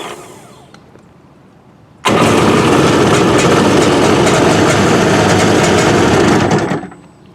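A jet ski engine, being readied for the lake, bursts into loud steady running after two seconds of quiet, holding an even dense roar for about five seconds before fading as it shuts off.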